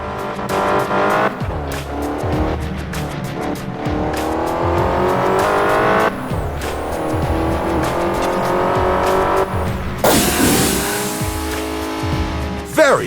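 Cars in the police driving game Crash Time 5 race over a deployed spike strip, with loud revving engines, shifting pitch and squealing, skidding tires, and a harsh crash-like burst near the end.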